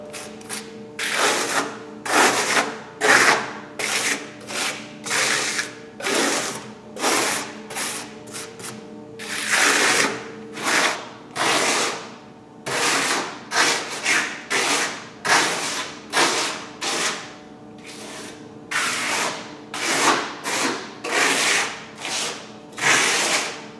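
A trowel spreads eco stucco plaster across a wall in repeated scraping strokes, rhythmic rough rubbing swipes about a second apart, close and moderately loud with no talking.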